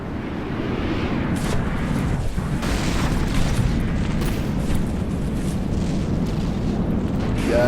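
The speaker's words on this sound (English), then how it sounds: "Oh, here come the missiles." Missile explosions in a video game rumble in a dense, continuous barrage of booms and bursts, loud and sustained with no clear gaps between impacts, no talking.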